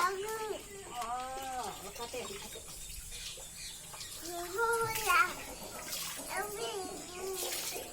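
A 15-month-old baby girl plays in water, with light splashing and watery sounds under her high babbling and nearby adult voices talking throughout, intermittent and close.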